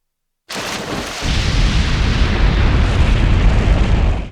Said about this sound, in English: She decides to detonate the explosive rather than be captured alive.